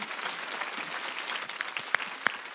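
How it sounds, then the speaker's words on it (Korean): A crowd claps in steady, dense applause filling a large church hall during a Wednesday worship service, with a few sharper claps standing out near the end. "박수 좀 쳐줘요"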